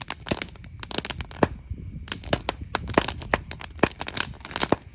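Roman candle fireworks and firecrackers go off on New Year's Eve in a dense, irregular string of sharp cracks and pops, some in quick clusters, loud and close with short gaps between bursts.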